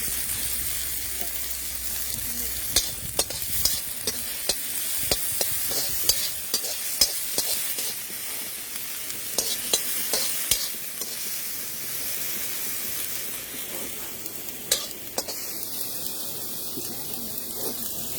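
Onion and tomatoes sautéing in a pan give a steady, close sizzle broken by frequent small scraping clicks as the mix is stirred.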